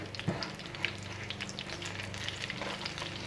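Spring rolls frying in a pan of hot oil, a steady close sizzle and crackle with occasional sharper pops, continuous throughout without any talking.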